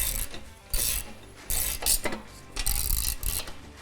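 A 15 and 16 millimeter wrench turns a bolt and nut while a RuggedSplit 500-Series log splitter is being assembled. Bursts of ratcheting clicks repeat in several short runs, close and fairly loud, with no talk.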